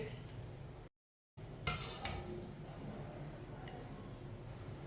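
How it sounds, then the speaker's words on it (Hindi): Fried chicken lifted from hot oil with a metal strainer and set onto a plate, giving a couple of bright clinks and scrapes of utensil against dish over a steady low kitchen hiss. "चिकन को ना बाहर निकाल लेते हैं छन्नी के साथ। प्लेट में डाल लेंगे।"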